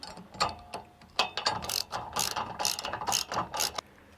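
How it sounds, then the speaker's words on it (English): A ratchet socket wrench with 11/16 sockets snugs up the bolts of an RV bumper receiver during a bike rack install, giving close, repeated bursts of quick clicking with short pauses between strokes. "It's going to need 2 sockets, 11/16, and snug them up."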